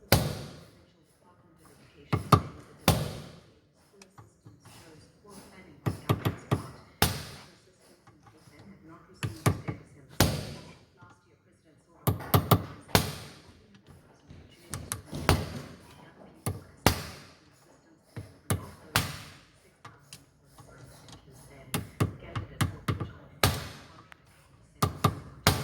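Sharp metallic knocks of a hammer and chisel on a bolt land in quick bursts of several strikes, with short pauses between groups, close and clear with nothing else underneath.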